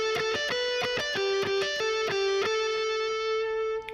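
Distorted electric guitar plays the ending of Tchaikovsky's Russian Dance, a short run of picked notes, then settles on a final sustained note that rings out.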